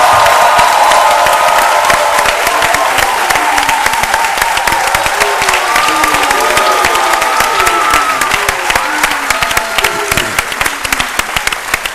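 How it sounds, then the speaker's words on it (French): A television studio audience applauds and cheers for an Ivorian stand-up comedian, with dense rapid clapping, shouts and whoops rising over it, loud and sustained before thinning slightly near the end. "je demande un grand stand-up d'applaudissements"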